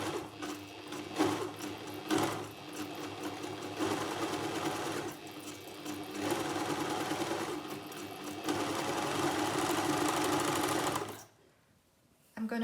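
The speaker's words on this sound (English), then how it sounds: "I'm going to run it for a little bit afterwards so that I have a nice piece of thread here to cut off" An overlocker serger machine running through fabric, a fast steady mechanical whirr with brief pauses and restarts, close and fairly loud, stopping abruptly near the end.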